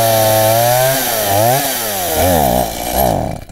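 A STIHL MS170 chainsaw starts up and bogs down, its engine note swooping up and sagging repeatedly in loud uneven revs before cutting out at the end, close and alone.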